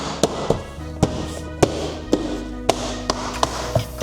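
Plastic clips of a BMW F10 door trim panel snapping into place, a series of about nine sharp, close clicks and taps spaced irregularly over a few seconds with nothing else heard.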